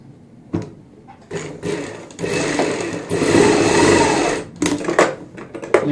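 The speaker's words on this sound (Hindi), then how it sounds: "यहाँ पे हमें सिलाई लगानी है जो हमने कट लगाए थे" Electric sewing machine stitching lace onto a kurti neckline, a short burst and then a steady close whirring run that speeds up and slows, ending with a few quick stop-start bursts.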